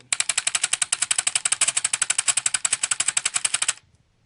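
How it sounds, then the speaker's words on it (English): A gun with an adjusted, very sensitive trigger fires rapid automatic bursts, a steady run of about forty sharp, loud, closely spaced shots for nearly four seconds before cutting off abruptly. "it definitely will shoot some bursts, and sometimes you can set your gun up to full auto"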